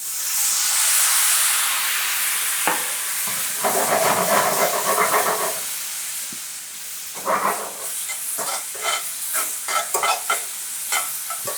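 Sherry poured into a hot pan with steak, garlic and butter bursts into a loud sizzling hiss, then settles into bubbling frying with spoon-stirring scrapes at intervals.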